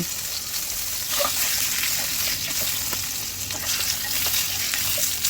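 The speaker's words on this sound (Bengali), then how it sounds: "কই মাছগুলোকে আমি প্রথমে ম্যারিনেট করে রেখে দিয়েছিলাম, এরপরে হালকা করে ভেজে নিচ্ছি" Marinated koi fish frying in a pan, a dense continuous sizzle with scattered sharp pops and crackles, close and fairly loud, no voices.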